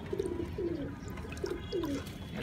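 Pigeons coo in short, low, rolling phrases, four distinct calls in quick succession over a soft background hum, close and moderately quiet.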